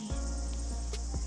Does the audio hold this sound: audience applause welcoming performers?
no